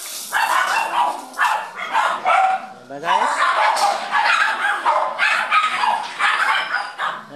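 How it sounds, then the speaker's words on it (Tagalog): Several dogs bark and yip in quick overlapping bursts, fairly close, with occasional whimpers and a person briefly speaking over them. "madami kami aso guys."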